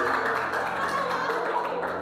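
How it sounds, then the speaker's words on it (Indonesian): Congregation clapping hands during a church fellowship sermon in Waingapu, a soft, diffuse patter of many hands sounding from a distance behind faint room murmur. "Tepuk tangan dulu"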